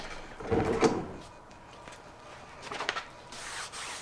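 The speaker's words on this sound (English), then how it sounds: "Time to rub. Got to make sure that glue is adhered. So you just want to rub the entire transfer." A heat-pressed white toner transfer is rubbed by hand, giving a few soft, close scuffing and rubbing strokes in short bursts separated by quieter pauses.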